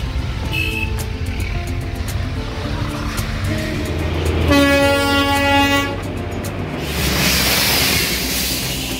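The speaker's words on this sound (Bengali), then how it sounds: "আরও একটি টয় ট্রেন আমাদের পাশ দিয়ে হর্ন বাজাতে বাজাতে এগিয়ে গেল" The Darjeeling toy train rolls past close by with a steady rumble, sounding one long, loud horn blast midway through, with rain-soaked road noise around it.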